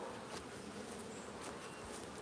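Honey bees buzzing at an apiary hive, a dense, continuous close-up drone of many insects with no pauses.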